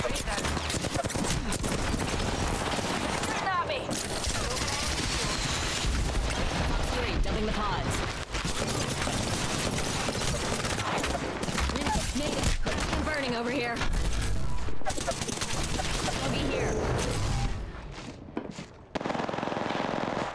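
Sustained, heavy gunfire from rapid automatic weapons fills a video game battle, loud and continuous, with a voice speaking under the shooting.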